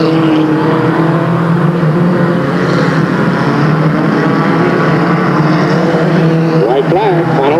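Race cars circling the Delta Speedway track in 1996 make a loud, continuous engine drone with shifting whining pitches throughout, close and unbroken.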